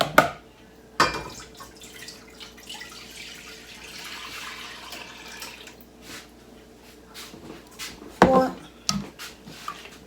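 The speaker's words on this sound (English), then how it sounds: "There's 4 cups going into the" Grape juice trickles from a bottle into a pot while making homemade grape jelly, a soft continuous watery pour broken by a few sharp knocks and clinks of glass against metal.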